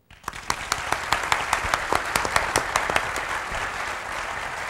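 An audience applauds to welcome speakers at a sustainability speaker series. Sharp scattered claps quickly swell into steady clapping that fills the room, then begins to fade.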